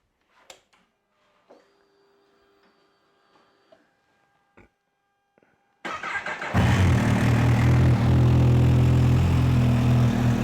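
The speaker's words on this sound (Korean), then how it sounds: "일단 아크라포빅 머플러의 배기 사운드를 한번 들어보고요" A 2018 Kawasaki H2 SX SE supercharged motorcycle fitted with an Akrapovic slip-on muffler fires up after some quiet clicks, then settles into a loud, steady, deep exhaust idle that carries on alone to the end.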